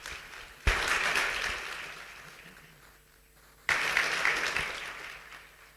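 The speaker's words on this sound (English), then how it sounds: "Let's give him another round of applause." An audience at an electric superbike motor reveal breaks into applause twice, each burst starting sharply, swelling into dense clapping and then fading away.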